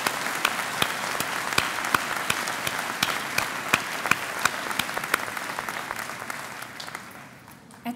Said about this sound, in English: please join me in let's giving one more round of applause to the outstanding faculty and